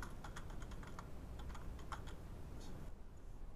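An account name typed on a computer keyboard while setting up a Radix Olympia wallet: a quick, even run of close, crisp keystrokes, with a short pause near the end.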